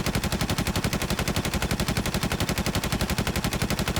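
M14 rifle in the shooter game Infestation firing on full auto, a rapid, evenly spaced stream of loud close gunshots with no pauses and no talk.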